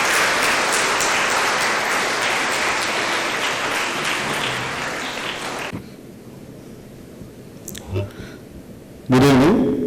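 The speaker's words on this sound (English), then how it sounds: "Can we welcome him with a round of applause once again?" Loud, dense applause from an audience at a jubilee inauguration ceremony in a higher education setting, sustained for several seconds before cutting off abruptly; a voice then begins speaking over a quieter room.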